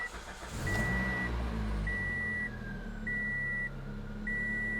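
A 2003–08 Toyota Matrix engine idles steadily after a serpentine belt replacement, a continuous low hum heard close, with a repeating electronic beep over it.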